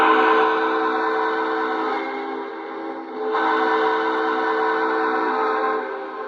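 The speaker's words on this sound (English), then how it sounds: "Nice whistle." Lionel Pacific model steam locomotive whistle blowing in a steady, loud sustained tone, briefly dipping near the middle before sounding again to the end.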